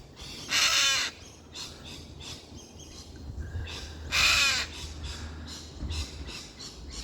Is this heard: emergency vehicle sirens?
no